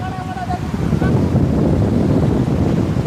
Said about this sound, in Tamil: இந்த அலை வருது பெரிய அலை வருது